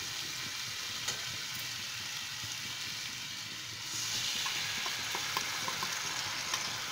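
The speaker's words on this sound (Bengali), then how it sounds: "এবার এর মধ্যে আমি সরষের পেস্টটা দিয়ে দেব।" Mustard paste hits fried spices in a hot pan for a quick fish curry, bringing a steady hissing sizzle that swells louder partway through, with faint clinks, no talking.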